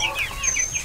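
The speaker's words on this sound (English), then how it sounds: "where are all these chickens at?" Chickens in a makeshift backyard coop give a few soft, close clucks, brief and fairly quiet with no talk over them.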